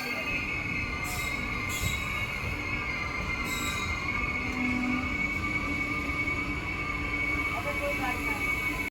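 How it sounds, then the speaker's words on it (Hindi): Lucknow Agra Intercity train pulling in at platform 3 of Etawah Junction, a steady rail rumble with a faint wheel squeal and brief high screeches, heard from a nearby train. "लखनऊ आगरा इंटरसिटी आई है प्लेटफॉर्म नंबर 3 पे"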